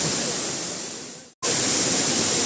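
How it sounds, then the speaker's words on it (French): Waterfall at Erawan park, Kanchanaburi, a loud broadband rush of falling water that cuts out for a moment and then comes back at full strength. "je suis à ma troisième cascade"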